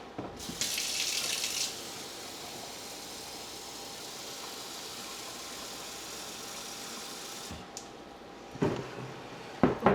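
A kitchen tap runs cold water into a measuring cup, a steady hiss that starts with a brief louder gush and continues quietly for several seconds, with a faint engine-like hum underneath and a few clunks at the end.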